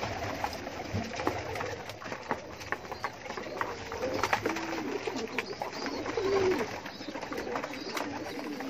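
Pigeons coo softly in a loft, low murmuring calls repeating over a steady background of rustling and faint clatter, at moderate distance with no voices heard.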